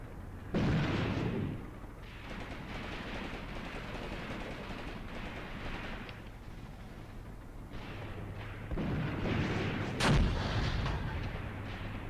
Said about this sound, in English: Oh, that howitzer.